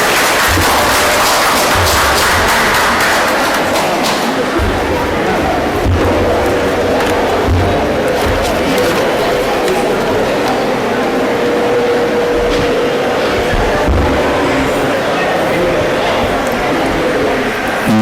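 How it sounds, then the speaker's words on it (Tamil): A large audience at a community association festival claps and cheers to welcome a speaker to the stage, a dense, continuous wash of applause and crowd noise lasting throughout. "கரகோஷம் எழுப்பி வரவேற்கிறோம்"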